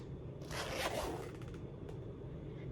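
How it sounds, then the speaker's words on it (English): A quick zipper pull on a microphone case rasps open, followed by a few faint scraping and rustling sounds in an otherwise quiet setting. "it's more secure with a zipper"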